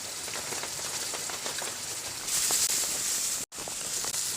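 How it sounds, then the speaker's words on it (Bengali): Masala with two spoonfuls of ginger-garlic paste being sautéed in a pan for a prawn and taro-stalk dish, giving a steady, close crackling sizzle that swells briefly midway and cuts out for a moment near the end. "আদা রসুনের পেস্ট দু চামচ দিয়ে খুব ভালো করে কষিয়ে নেব মশলাটাকে"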